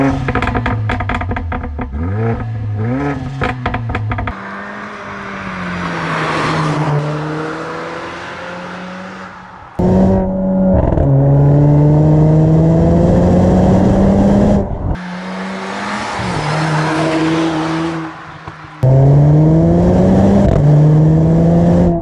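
A Mercedes A45 AMG with a Stage 1 tune producing 412 horsepower revs repeatedly, rising and falling in loud, close pitch sweeps with sharp gaps between bursts, and no voices.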